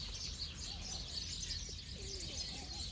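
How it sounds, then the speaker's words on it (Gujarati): Pigeons in a village farm setting call softly with low, sparse coos over a steady bed of birdsong and ambient noise, fairly faint and distant. "સામે કબૂતર પણ આવી ગયા છે"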